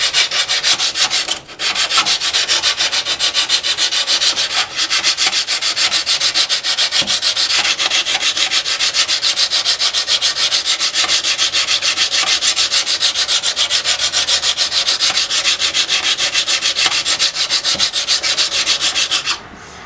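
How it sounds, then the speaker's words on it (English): A steel chisel back is rubbed flat on 60 grit sandpaper in a steady, loud, continuous scraping rasp, sustained for nearly twenty seconds with only brief pauses. "I'm just going to go ahead and start with the 60 grit sandpaper and working it that way"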